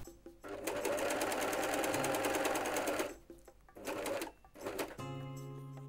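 An overlock serger stitches fabric in fast mechanical bursts: a long run of about two and a half seconds, a shorter burst, then another brief one, close and rhythmic with quiet gaps between.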